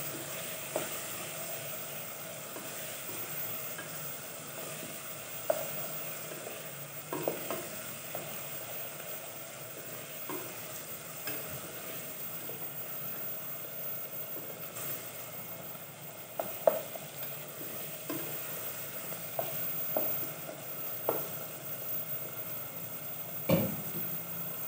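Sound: frying potatoes, peas and fenugreek vegetables

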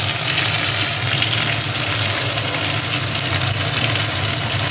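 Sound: onion, ginger and garlic paste sizzling in a pan

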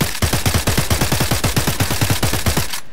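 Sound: AK rifle gunfire in video game Blade and Sorcery

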